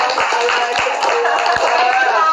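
A classroom of students claps together in a loud, rapid burst of applause lasting a couple of seconds.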